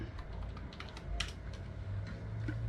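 Rapid typing on a computer keyboard, a steady patter of light clicks at close range with faint background hum and no voice.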